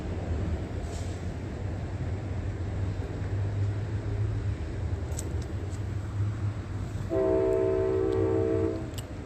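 Amtrak train with rumbling rail noise and a distant low drone throughout, then a loud multi-tone horn blast joins for the final seconds.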